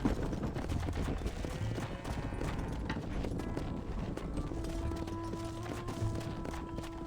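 Horse hooves clip-clopping steadily in the western video game Red Dead Redemption near a ranch pen and stable, a quick, even trot of soft thuds running throughout beneath a musical score.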